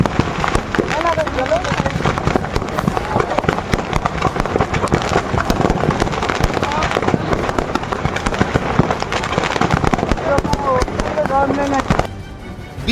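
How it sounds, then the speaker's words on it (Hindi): Fireworks go off inside a burning truck standing on a road at night in Unnao, a dense, nonstop barrage of crackling pops and bangs, loud and close. "सड़क पर एक ट्रक खड़ा है और उसमें आतिशबाजी हो रही है"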